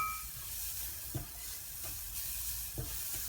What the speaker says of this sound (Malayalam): തേങ്ങ ഒരു മുക്കാൽ ഭാഗം മൂപ്പാവുമ്പോൾ നമുക്ക് മല്ലി മുളകും പിന്നെ നമ്മുടെ ഗരം മസാലകൾ അതിട്ട്